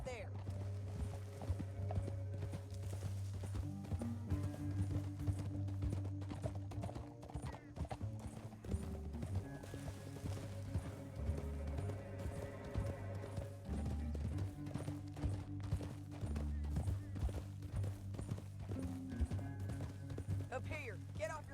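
Galloping horses in a western canyon chase, a steady clip-clop of hoofbeats running under loud orchestral music with voices.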